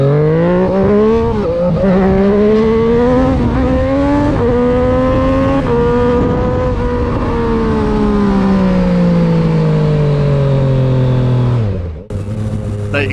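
A tuned 2020 Triumph Street Triple 765 RS three-cylinder motorcycle accelerates hard up through the gears, its loud engine climbing in pitch with quick drops at each shift before easing off near the end.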